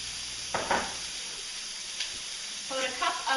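Half a red pepper and half an orange pepper drop into a hot frying pan with a soft sizzle, flaring in brief bursts of crackling and stirring over a steady low frying hiss.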